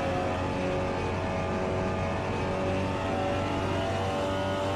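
A Seat Leon TCR touring car's engine labours uphill in Assetto Corsa, a loud, continuous droning roar held near the limiter for several seconds with no gaps and no voices.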